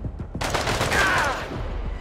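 Gunfire bursts in the video game Corruption 2029, a loud close volley of rapid shots that rings out and decays over a couple of seconds.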